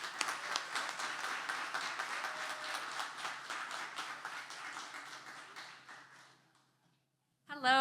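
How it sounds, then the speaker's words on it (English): Audience applause at a youth engagement partner summit: dense, steady clapping from a crowd that fades out around six seconds, followed by a short silence before a voice begins speaking. "Let's give them a round of applause."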